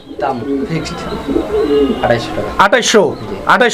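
Pigeons at a busy pigeon market coo in repeated low rolling calls close by, with people talking over and between the birds.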